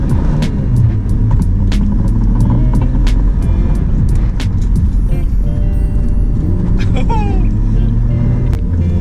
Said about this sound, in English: I'm driving a 30-year-old car